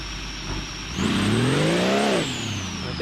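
A drag car's engine in the BeamNG driving game revs up from idle to a rising, sustained roar for about a second, then drops back, close and loud with no talking.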